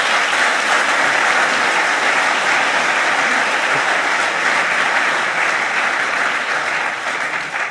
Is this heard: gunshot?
no